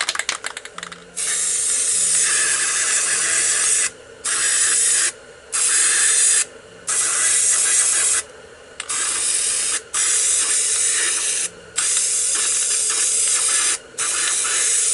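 Spray paint can blasting black paint in a beginner's swing-set art piece, a loud close hiss in repeated long bursts separated by brief pauses.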